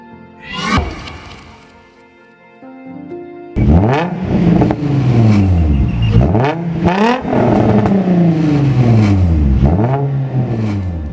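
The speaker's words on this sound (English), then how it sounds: "The VQ35 sounds incredible and I just love it. Just starting the engine feels like an occasion and it makes such a unique noise." A Nissan VQ35 V6 cranks and catches after a brief whine, then revs hard again and again in loud rising and falling sweeps, close up and with no talking.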